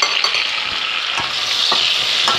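Chopped, salted onion fries and sizzles steadily in a pan, loud and close, with occasional stirring scrapes and no voices.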